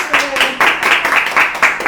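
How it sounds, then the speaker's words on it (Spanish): Congregation clapping in a church, a steady run of rhythmic hand claps in roughly even bursts, close and loud, with a voice speaking over the clapping. "por acá están aplaudiendo"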